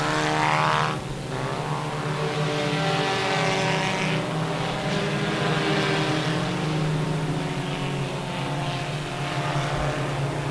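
IMCA sport compact race cars roar around the RPM Speedway track in a feature race, a dense, continuous engine drone rising and falling as cars pass, loud and steady throughout with no talk.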